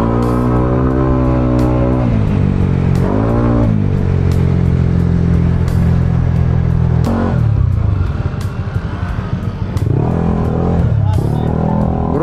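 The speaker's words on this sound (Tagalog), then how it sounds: "Traffic." Road traffic heard from inside a moving car: a steady engine drone whose pitch rises and falls as the vehicle speeds up and slows, with voices talking over it throughout.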